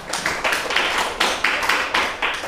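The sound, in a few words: audience clapping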